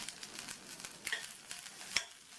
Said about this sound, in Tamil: கொஞ்சம் ஜஸ்ட்டு வதக்கி விட்டால் போதும்